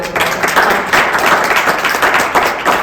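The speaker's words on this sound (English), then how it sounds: "Please give her a round of applause." An audience at a policy panel event breaks into sustained applause, a dense, even wash of many hands clapping that carries on throughout.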